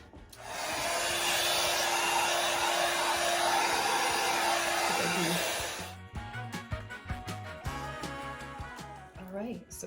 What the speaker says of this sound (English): I'm just going to take my heat gun.